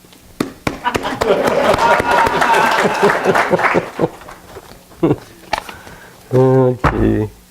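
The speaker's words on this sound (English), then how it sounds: "The applause of a single human being is of great consequence." Audience applause at a church fellowship gathering, a dense burst of many hands clapping close and loud for several seconds, then fading into scattered claps followed by a short voiced sound.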